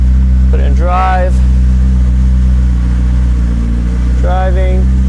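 A McLaren engine runs steadily while the car is driven slowly, a low droning hum with strong low harmonics that holds throughout, with someone talking briefly near the start and end.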